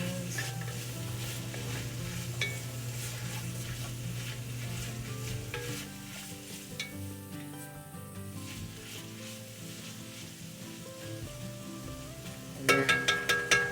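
Chickpeas sizzle steadily in a hot frying pan while a utensil stirs and scrapes through them, close and continuous, with a brief sharper clatter near the end and no talking.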